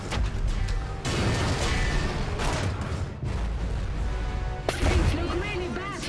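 Loud, continuous cannon fire in the video game Iron Harvest: repeated heavy booms and rumbling blasts overlapping one another, with voices faintly mixed underneath.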